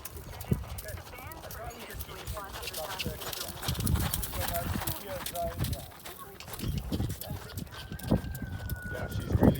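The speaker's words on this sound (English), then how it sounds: "spooking the horse" A horse's hooves clop in a steady, close rhythm on a trail outdoors, continuing under people talking throughout.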